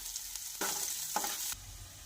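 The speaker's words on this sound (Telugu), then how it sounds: "కొద్దిగా ఆయిల్ పెట్టుకొని అందులో మనము పోపు పెట్టుకోవాలి" Spices sizzle in hot oil as a tempering for a bitter gourd fry, with sharp frying bursts and stirring in a pan between quieter moments. The sounds are close and moderately loud.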